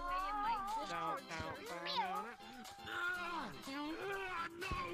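A person imitates a cat's meow in a Gorilla Tag game voice chat, with several drawn-out, wavering meows in quick succession, close and fairly clear, sliding up and down in pitch.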